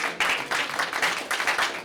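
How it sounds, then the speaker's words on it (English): A small group at a team meeting applauding, a brief burst of dense clapping that swells and dips unevenly, close by, with no talking over it. "Give yourself an applause."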